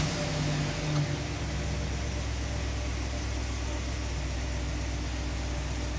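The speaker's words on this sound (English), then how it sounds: "So now I'm gonna start the engine." A Chevy Express van engine with an evap system leak and a stuck-lean O2 sensor turns over in the first second, then settles into a steady, loud, low idle that continues alone for several seconds.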